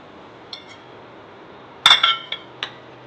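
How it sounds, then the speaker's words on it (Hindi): A metal whisk clinks against a pot of chocolate pudding in a few sharp, bright taps: one faint tap, then a quick cluster of louder clinks and a last one, over a quiet background. "मैं ये विस्क ले रही हूँ, इससे मिक्स करूँगी अच्छे से"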